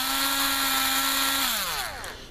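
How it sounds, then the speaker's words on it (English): Homemade sandpaper power tool, a small brushed motor spinning sandpaper held on with electrical tape, whines at a loud, steady high pitch, then spins down with falling tones as power is released. "that spins extremely fast when you press the button"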